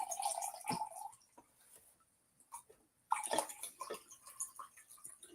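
Water poured off from a container to dissolve salt for a pepper ferment, heard as faint splashing and sloshing in two bursts separated by a brief quiet pause.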